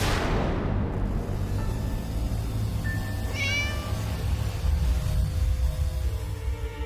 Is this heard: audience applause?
no